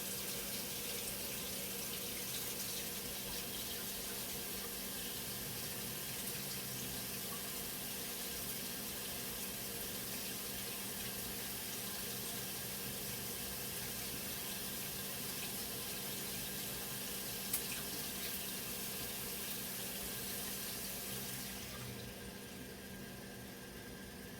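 A tap runs hot water into a jar in a steady, unbroken rush that fills the clip, with the stream's tone shifting slightly near the end.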